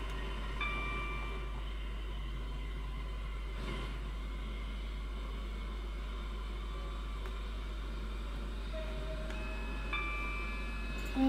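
A train in the Roblox game Stepford County Railway runs through a station platform without stopping, giving a steady, fairly quiet rolling rumble with faint tonal hums throughout and a slight swell at the very end.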